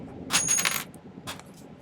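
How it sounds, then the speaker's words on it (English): Metal snips cutting off excess silver while making a mixed-metal circle link bracelet, giving a couple of bright, sharp metallic clicks close by with a short pause between them and no talk. "I'm just going to cut off this excess."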